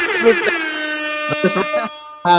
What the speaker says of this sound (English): Let's air horn it.